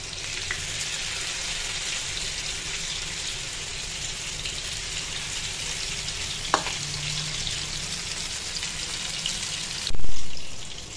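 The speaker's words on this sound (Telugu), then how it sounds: "మనం మిగిలిన ముక్కలు కూడా మళ్ళీ యాజ్ ఇట్ ఈజ్ ఫ్రై చేసేసుకుందాం" Fish pieces fry steadily in hot oil, a continuous close sizzle with a brief clink near the middle and a louder surge of bubbling at the end, no voices.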